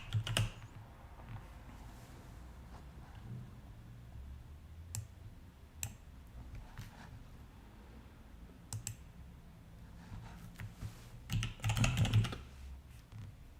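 Computer keyboard typing during a webinar, with quick irregular key clicks in short bursts. They are close but soft, grow busier near the end, and a faint voice is heard briefly.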